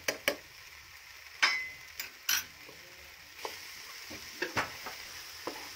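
A banana snack mixture cooking in a pan is stirred: soft sizzling under sharp, sporadic scrapes and taps of a spoon against the pan, close and fairly quiet, with no voices.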